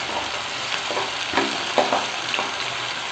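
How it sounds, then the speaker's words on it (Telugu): Tomatoes and onions fry in a pan for chicken masala curry, giving a steady close sizzle broken by several scraping strokes of a spoon as they are stirred. "అలాగే టమాటోస్ కూడా వేసేసుకుందాం. ఇప్పుడే వేసుకొని ఇవన్నీ బాగా మగ్గించుకోవాలి ఫ్రెండ్స్. మిక్స్ చేసుకుందాం ఒకసారి."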